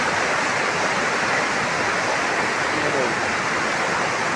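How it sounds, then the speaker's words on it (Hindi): The Luni river near Govindgarh dam flows strongly, a dense, steady rushing roar of fast water, loud and close throughout without pause. "पानी का बहुत तेज हो चुका है"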